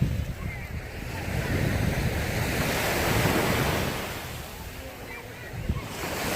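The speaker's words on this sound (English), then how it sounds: "the waves, the Mediterranean doesn't get waves like we do in the Pacific" Surf on a Mediterranean beach after a storm rolls in as a steady, loud wash of breaking waves, with wind buffeting the microphone throughout and no voices.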